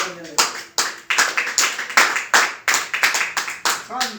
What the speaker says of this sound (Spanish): Palmas para el Señor.